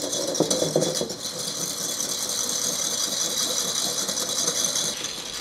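An electric whisk beats egg yolks and sugar in a bowl, a steady high whirring motor with a rattling, clattering start, continuous and close until it cuts off near the end.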